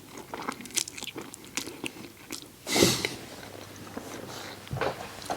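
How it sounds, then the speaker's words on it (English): Someone biting into a home-cooked meal and chewing it, soft close crunches and mouth sounds with one louder bite in the middle. "So let's give it a little taste test."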